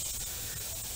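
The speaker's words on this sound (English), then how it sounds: "You want to make sure you drain your air compressor." Air hisses out of an air compressor as it is drained before an AC system flush, a short, steady broadband spray close by with no talk over it.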